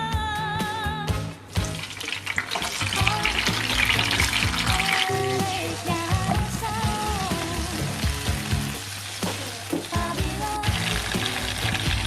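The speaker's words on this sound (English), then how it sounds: "So first we have to fry all the ingredients to hot oil." Sambal ingredients fry in hot oil with a continuous, crackling sizzle under tonal background music.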